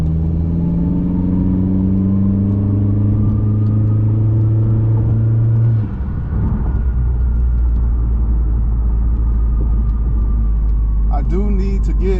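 A 2020 Honda Accord Sport fitted with a PRL street downpipe, its engine droning at a steady loud idle-to-rev rumble with shifting tonal harmonics, heard up close and alone.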